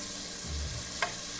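Food fries in a pan with a soft, continuous sizzle, close but fairly quiet. A low thump sounds partway through and a sharp click comes near the end, with no talking.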